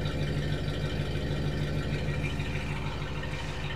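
A Mercury Marquis V8 fitted with aftermarket dual exhaust runs at a steady idle, a continuous close, throbbing rumble with even low pulses and no speech over it.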